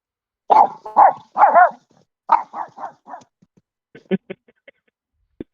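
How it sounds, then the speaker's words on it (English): A dog barks in a quiet room during a tabletop card game, a burst of several close, loud barks followed by softer yips and whimpers, with short silences between. "Who's barking at me?"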